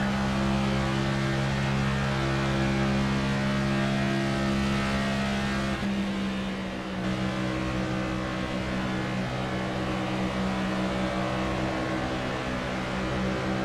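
Stock cars race in the NASCAR 25 video game at Michigan, a steady loud engine drone with sustained tonal hum and a brief dip midway, no voices.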